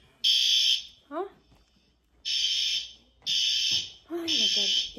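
Fire alarm at an inn sounding in loud, shrill repeated bursts, four long blasts separated by pauses, with people's voices heard in the gaps between them.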